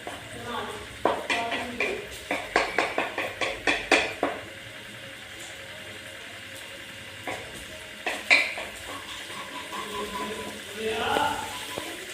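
Spices roasting in a pan, with a run of rhythmic stirring scrapes and clinks against the pan over a faint sizzle, while people talk nearby.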